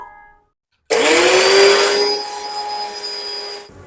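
An electric mixer grinder starts abruptly after a brief quiet moment and runs at a loud, steady high-pitched whine while it grinds rice into fine powder for ariselu, close up, then cuts off at the end.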